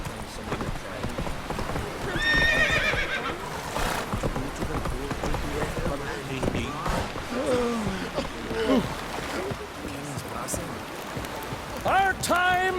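Galloping hoofbeats and a few whinnies from the horse Roach in The Witcher 3, set against rain and game ambience, steady rhythmic clip-clop throughout with brief neighs, a voice talking over part of it.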